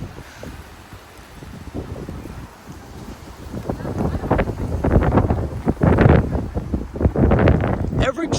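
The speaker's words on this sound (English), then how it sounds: "Every tree in the neighborhood is making swooshing noises." Strong gusts of up to 50 mph roar through live oaks, bushes and neighborhood trees in Frisco, Texas, building from a low rumble into loud buffeting swooshes with wind hitting the microphone, while a voice speaks faintly underneath.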